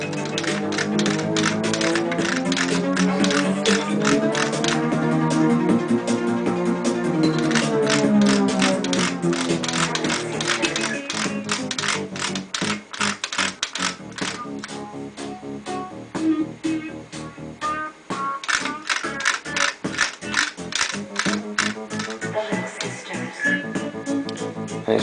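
A Studer A810 reel-to-reel tape recorder plays back a rapid, choppy musical passage whose pitch audibly glides up and down as the varispeed control is adjusted, loud and steady throughout.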